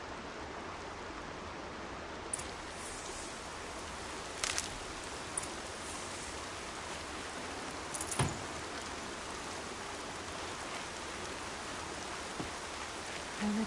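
Steady rain falls in the video game Horizon Zero Dawn as a continuous even hiss, with a few faint drops tapping here and there, and no voices.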